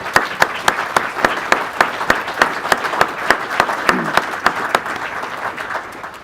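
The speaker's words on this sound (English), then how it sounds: "Let's give them a clap" An audience claps for first responders at a 2018 Hilton bombing memorial, loud, evenly spaced rhythmic hand claps in unison carrying on steadily and tapering slightly near the end.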